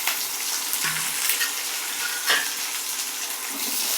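Onions, garlic, drumstick and curry leaves sauté in a pan, producing a close, continuous hissing sizzle that stays fairly even, with a few brief clinks.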